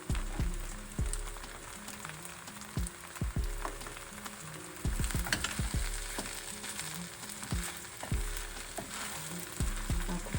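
Coconut fried rice sizzles and crackles in a pan as it is stirred, with repeated scraping strokes and a steady frying hiss throughout.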